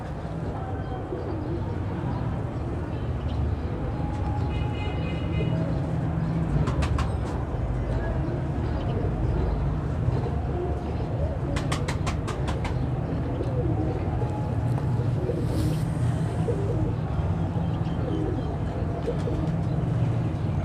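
A pair of Kasuri pigeons coo softly and steadily in a low, continuous murmur, with a few scattered clicks and faint background noise throughout.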